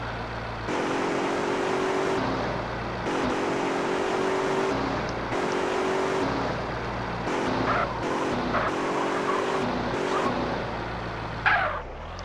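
Car engine from GTA San Andreas Multiplayer, a steady in-game drone that runs continuously with slight shifts in pitch as the vehicle drives along, alone and without talk.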